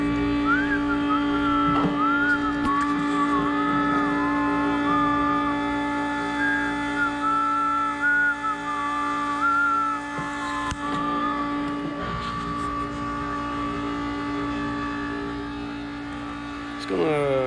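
A diesel Mercedes engine running on waste motor oil holds a steady, loud idle, with a high wavering whine riding over the low drone throughout.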